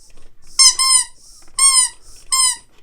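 Squeaking Wheezy penguin toy from Toy Story, giving three loud, close rubber squeaks, each a double squeal with short pauses between, alone without talk.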